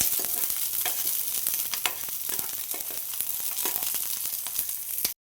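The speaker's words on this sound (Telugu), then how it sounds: "శనగిత్తనాలు బాగా వేగిన తర్వాత అందులోకి పచ్చిమిరపకాయలు బాగా వేయించుకోవాలి" Green chillies fry with peanuts in a pan, a loud, steady close-up sizzle with frequent crackling pops throughout that cuts off abruptly at the end.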